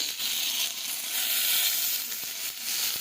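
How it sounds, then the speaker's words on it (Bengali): Eggplant frying in oil in a pan, a continuous close hiss and crackle of sizzling with small scraping touches, steady and fairly loud, with no talking. "তো বেগুনটা একটু ভেজে নিই"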